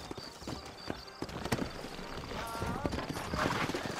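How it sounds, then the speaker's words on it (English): Horse hooves clip-clop at a walking pace in the video game Red Dead Redemption, with a voice speaking over the steady hoofbeats and a brief whinny-like sound partway through. "You ain't gonna find sturdier horses than these in all of New Ulster."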